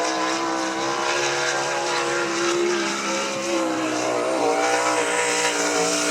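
A sprint car tears through a qualifying lap at I-96 Speedway, its engine a loud, sustained high-pitched roar that holds steady and close for the whole stretch with no pause.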